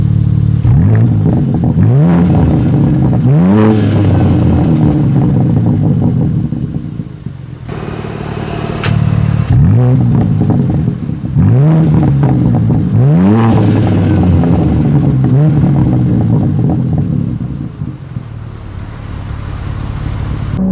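A 2022 BMW M4 Competition xDrive engine revving loudly and repeatedly, rising and falling in pitch in rhythmic bursts, with no talking.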